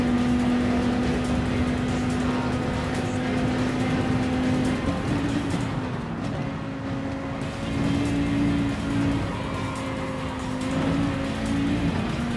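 A Dodge Viper race car in a racing video game holds a steady, high-revving engine drone at speed around Daytona, loud and continuous with slight pitch shifts as it chases down other cars.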